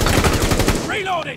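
Rapid automatic gunfire in Rainbow Six Siege on the Oregon map, a dense run of loud, close bursts lasting about a second before easing off, with brief voice activity at the end.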